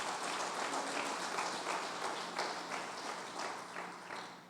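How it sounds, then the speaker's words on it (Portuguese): A church congregation at an evening service claps hands, a continuous wash of crowd clapping heard at a moderate distance and fairly soft level, with loose rhythmic pulses. "Bata as palmas para o Senhor nesta noite."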